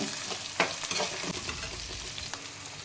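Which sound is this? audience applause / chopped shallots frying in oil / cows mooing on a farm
chopped shallots frying in oil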